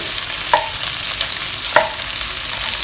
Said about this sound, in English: I'm just going to fry them for another about 10 to 20 seconds more to get the maximum goodness out.